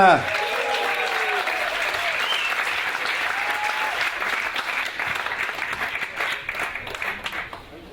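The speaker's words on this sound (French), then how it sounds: "Je vous demande d'applaudir avec moi Cyril Capitaine." A crowd at a business leaders' event applauds as a speaker is introduced, a loud, dense round of clapping that starts at once after a short voice and continues steadily, tapering slightly near the end.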